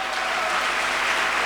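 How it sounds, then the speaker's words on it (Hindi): An audience in a hall applauds loudly in a dense, even wash of many clapping hands that holds steady the whole time, with no voices over it. "मैं चाहूँगा सर के लिए जोरदार तालियां हो जाएं"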